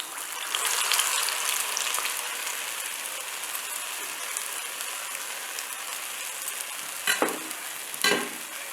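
Small urad dal vadas frying in oil for Maha Shivaratri prasadam give off a continuous close sizzle, with two brief louder spattering bursts near the end.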